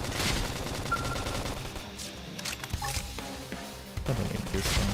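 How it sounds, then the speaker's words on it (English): Bursts of gunfire and a blast from a flame grenade in the video game Xenoblade Chronicles X, dense overlapping shots and booms running loud and continuous through the whole stretch. "Flame grenade!"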